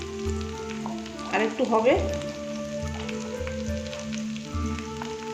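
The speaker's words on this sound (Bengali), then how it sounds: "দেখুন এই যে ভাজা হচ্ছে।" Chorbi bora fritters sizzle in hot oil with a steady close crackle, while someone speaks briefly over the frying.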